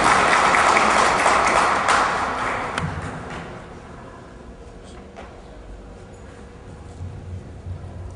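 Hall audience at an embassy diaspora gathering applauding loudly, a dense wash of clapping that fades away after about three seconds into a quiet room.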